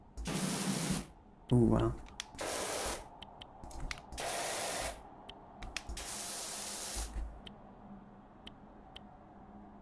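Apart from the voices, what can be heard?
pressure washer spraying in Powerwash Simulator video game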